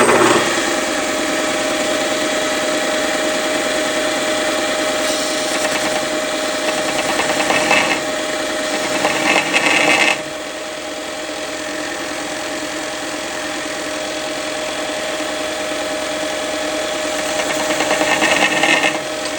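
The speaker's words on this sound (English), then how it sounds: "I'm going to give it a rough square on the belt sander." A belt sander roughly squares a Remington 760 rifle part, its motor droning steadily with a gritty grinding hum that eases slightly partway through and then carries on evenly to the end.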